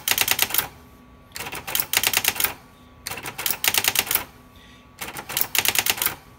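Brother SX-4000 electronic typewriter typing in four rapid bursts of clattering keystrokes separated by short pauses with a faint motor hum, close and clear with no talking.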